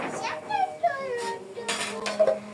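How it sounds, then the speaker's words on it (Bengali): Chicken haleem with green chillies is stirred in a pot, a metal spoon scraping and clinking against the sides in a few uneven strokes, close and moderately loud. "একটু নেড়ে মিশিয়ে নিব।"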